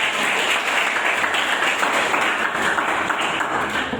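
Classroom of schoolchildren clapping together in sustained, dense applause, steady and fairly loud for the whole stretch, with no speech over it.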